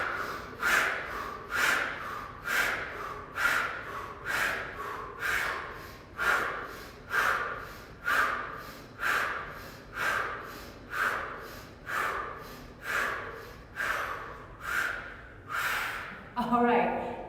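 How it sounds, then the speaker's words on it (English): About fifteen deep, rhythmic breaths, each a forceful exhale through the nose, taken evenly spaced during a yoga breathing exercise, close and clear with no talk over them. "Breathing done."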